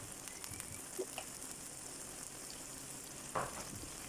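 Homemade firm tofu browning in a pan with a little salt, giving a continuous close sizzle and scattered sharper crackles and spits, with no talking.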